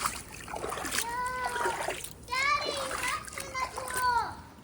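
Water splashes and trickles onto pool chemicals beside a salt pool, a continuous sloshing wash under the voices of a child and an adult.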